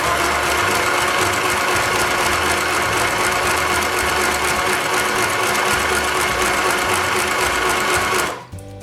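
A simple home sewing machine runs a continuous fast stitch on a garment seam, loud and steady for several seconds with a backstitch pass, then stops abruptly near the end.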